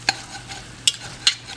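A spoon scrapes and clacks against a pot while roux paste for a chicken and sausage piquant is stirred, with sharp strokes repeating every few tenths of a second over a faint background hiss.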